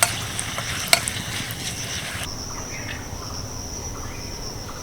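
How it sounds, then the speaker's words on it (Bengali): Five-spice seeds and dried chillies frying in hot oil, a steady close sizzle with a few clinks of a spoon stirring early on. "দিয়ে দিচ্ছি দুটো শুকনো লঙ্কা হালকা একটু ভেজে নেব"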